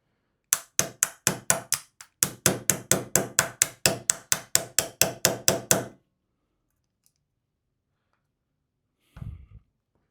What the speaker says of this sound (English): Just letting it up slowly and then hammering this down.